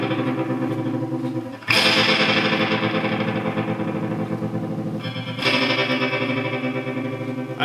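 An electric guitar runs through a Moogerfooger ring modulator set to a chopping effect, giving a dense, metallic, rapidly pulsing tone with a triplet-like flutter, played loud with two sharp restrikes.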